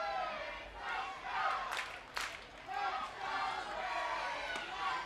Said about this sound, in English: Crowd really getting into that.